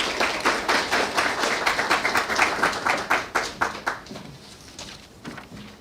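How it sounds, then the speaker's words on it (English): An audience applauds the CEO at a launch event, a burst of brisk hand-clapping that is loud at first and gradually thins and fades toward the end, with no voices. "Can we give her a round of applause"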